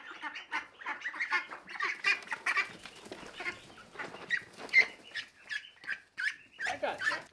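A flock of small ducks quacks and honks busily close by, a continuous overlapping chorus of calls with no pause.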